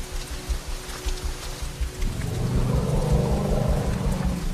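Steady rain hisses over northern Kenya's wild land while a deep roll of thunder swells in about halfway and rumbles on to the end.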